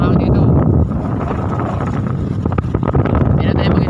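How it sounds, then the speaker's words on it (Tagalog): Strong wind buffets the microphone in a continuous loud roar while riding out in Lobo, Batangas, with low rumbling gusts throughout and occasional sharper bursts. "Lakas ang hangin dito."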